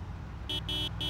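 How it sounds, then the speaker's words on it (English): A car horn in the Project Zomboid multiplayer video game honks three times in close succession, loud, steady blasts with short gaps between them over a low background rumble. "Oh, and honk the horn."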